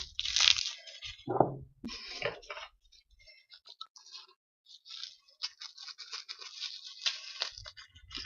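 Scissors snip and crunch through a plastic food package from a monthly food subscription box, with a few sharp close cuts and crinkles separated by quiet pauses.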